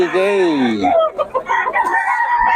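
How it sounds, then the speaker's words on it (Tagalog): A rooster crows loudly and close, one long rising-and-falling call, followed by a muffled voice and some clucking in the background. "Ulit yung manok."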